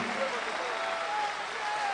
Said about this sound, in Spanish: ustedes le regalan el más bonito aplauso a estos queridos cantores